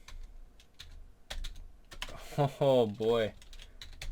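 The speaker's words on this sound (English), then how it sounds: "I gotta look at my keyboard when I'm typing today." Typing on a computer keyboard, with scattered key clicks in irregular bursts up close, then someone speaks briefly over the last strokes.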